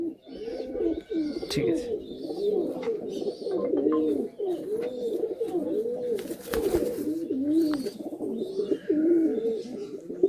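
Malwai and Madrasi pigeons coo steadily in a loft, overlapping throaty rolling calls repeating throughout at close range, with brief clattering and wing noise and a short spoken phrase.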